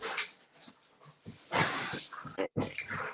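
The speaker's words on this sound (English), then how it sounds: "they're both tugging on a stuffed animal and growling a little bit" Two dogs growl and huff while tugging on a stuffed toy, low rumbling snarls and breathy bursts mixed with people talking over them.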